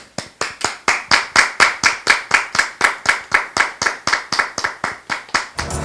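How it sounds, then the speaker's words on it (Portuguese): Live studio audience clapping in unison, a loud, regular rhythmic beat of roughly four claps per second repeating close by for several seconds, ending in a brief scatter of looser applause. "Aqui o aplauso não é gravado, não, é ao vivo"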